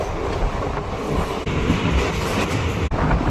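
The Bidar–Kalaburagi DEMU train rumbles steadily from inside, with a continuous low roar, rattling carriages and brief wheel clatter at the rail joints.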